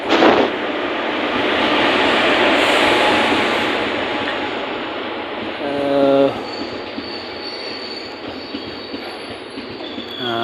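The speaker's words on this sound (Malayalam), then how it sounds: "ഇപ്പോൾ ട്രെയിൻ നേരത്തെ വന്നു" A train pulls into a station at night on the Kollam–Tenkasi line. Its broad, loud rumble swells and ebbs, and a sharp squeal of wheels or brakes rises near the end.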